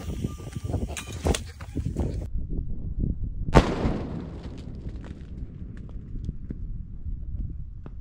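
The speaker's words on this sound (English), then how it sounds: "Up next, four sticks of dynamite." Four sticks of dynamite exploding outdoors: one sharp, loud blast cuts through ongoing background clatter, then decays into a rumbling tail with scattered smaller knocks afterward.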